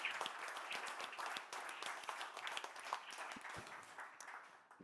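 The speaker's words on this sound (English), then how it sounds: "Maybe we can do a little bit of an applause for our organizing team." Audience at a payments industry keynote session gives a round of applause, scattered distinct claps within a continuous crowd clapping, moderately soft and sustained.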